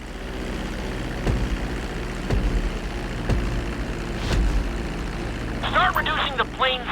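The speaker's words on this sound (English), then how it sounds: "Now let's get the plane off the runway." A fixed-wing plane's engine drones steadily while taxiing on a runway during flight school in the video game Grand Theft Auto V, with periodic thumps and a game voice speaking near the end.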